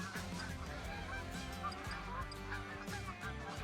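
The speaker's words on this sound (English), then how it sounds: "Snow goose. Let's do mating call for them." Snow geese honking in a Call of the Wild hunting game on the Askiy Ridge map, a dense overlapping chorus of loud calls from a flock coming in to land, steady throughout over a low droning background.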